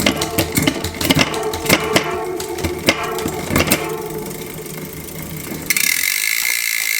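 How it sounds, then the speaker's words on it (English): An SRAM GX Eagle 12-speed derailleur on a Giant mountain bike shifts up to the highest gear, giving a burst of rapid ratcheting chain clicks and rattles that fade, then end in a brighter sustained hiss. "Now we can go back to the highest gear again."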